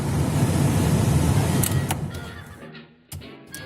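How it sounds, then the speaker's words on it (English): A steady whooshing heater blower fan runs loudly inside a 1990 Honda CRX/Civic on its first setting, then cuts down and quiets, with a few clicks and a brief bump near the end. "First setting, the fan works."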